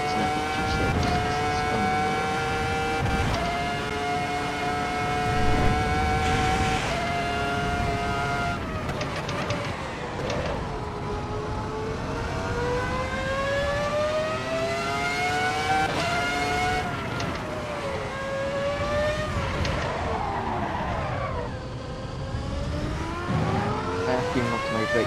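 Formula 1 car engine in the racing game Assetto Corsa EVO at the Mount Panorama circuit, a loud, high-pitched wail rising and falling through repeated gear changes, braking and acceleration, continuous and close.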